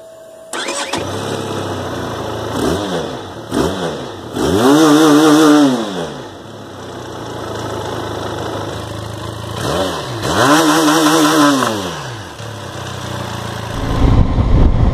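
A Benelli TRK 502 motorcycle engine cranks and catches, then revs up and down in several rising and falling sweeps before settling to idle. It is loud and close, with no voices.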